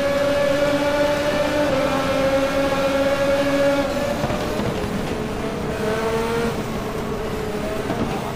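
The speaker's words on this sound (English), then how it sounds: "The stock cars just roaring V8s." Stock car V8 engines roar in the sim racing game Game Stock Car, a sustained loud drone that holds steady, then drops in pitch as a car shifts or passes midway, heard alone without talk.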